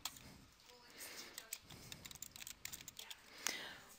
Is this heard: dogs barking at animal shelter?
no